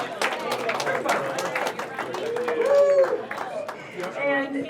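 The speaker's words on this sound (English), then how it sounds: "Round of applause again" An audience at a Vegas Night foundation gala claps in a rapid, scattered patter, with people chattering and a voice speaking over the applause the whole time.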